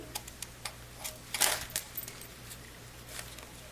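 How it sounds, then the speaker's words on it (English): A few quick, crisp snips of scissors cutting ribbon, close up and fairly quiet, with one louder burst in the middle. "I'm going to take my scissors. I'm going to cut my ribbon."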